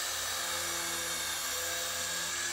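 A remote-control military helicopter's motor runs steadily, a continuous high-pitched electric whine with a steady buzz beneath, held at an even level throughout.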